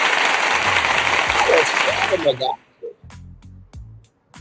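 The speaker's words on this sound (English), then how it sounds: "Let's give some applause for that." Studio audience applause and cheering fill the first two and a half seconds loudly, then break off abruptly into short bursts of talk on an after-show set.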